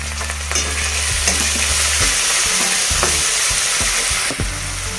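Carrot and other vegetables tossed in a hot pan for Schezwan rice, loud continuous sizzling with repeated scraping and clattering stirs of the spoon throughout.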